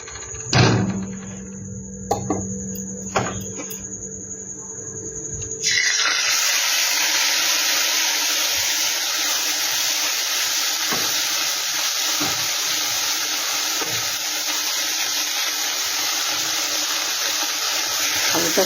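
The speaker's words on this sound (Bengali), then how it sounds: "সাবুটাকে কিন্তু আমি একটু ভালো করে ভেজে নেব।" Sago pearls dropped into hot ghee for sabudana laddu set off a loud, steady broadband sizzle and hiss that starts abruptly partway through and continues unbroken, after a few earlier clinks and handling sounds.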